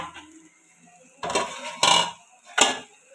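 Metal lid being placed over a cooking pot of egg, pointed gourd and potato: three distinct clanks and scrapes, close and fairly loud, separated by short quiet gaps.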